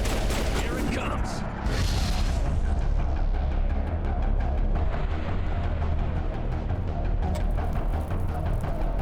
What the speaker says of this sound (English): Oh, you can actually set off the grenades early.